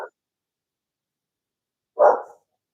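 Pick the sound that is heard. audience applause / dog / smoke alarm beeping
dog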